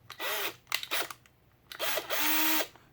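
A power drill drives a screw into a Spyderco Paramilitary 2 knife sheath in short bursts: a brief whir, two quick pulses, then a longer run that rises and holds before cutting off, close up.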